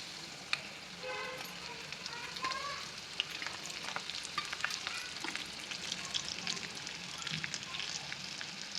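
Ivy gourds frying in a pan with gram flour powder, a steady close sizzle with scattered crackles and stirring scrapes, no voices.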